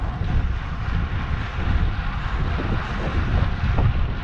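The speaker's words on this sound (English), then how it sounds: "Bloody windy again." Strong wind buffets the microphone while a gravel bike fitted with 28mm slick tyres is ridden along a road, a constant loud low roar filling the whole stretch with no talking.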